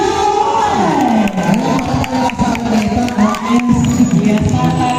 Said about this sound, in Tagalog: isang malakas at masigabang palakpakan na may kasamang hiyawan